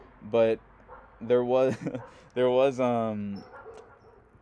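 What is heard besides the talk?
dogs barking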